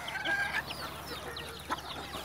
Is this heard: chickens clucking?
yes